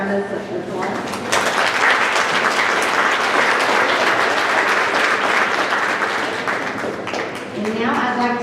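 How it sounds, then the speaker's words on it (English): A chamber of commerce banquet audience bursts into applause, dense sustained clapping that swells quickly and holds for several seconds before fading, with a voice speaking before and after. "So let's give them all around us a applause."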